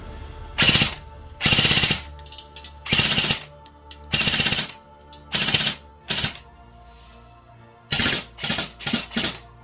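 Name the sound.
Classic Army Stoner 96 airsoft LMG firing until empty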